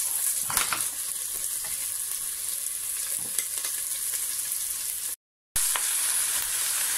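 Minced beef frying in a pan, a steady hiss of sizzling with occasional light stirring clicks and a brief dropout of sound.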